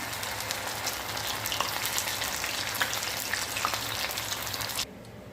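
Sago pakoda batter deep-frying in hot oil, a steady, close, bubbling sizzle with crackling pops that stops abruptly near the end, with no talking.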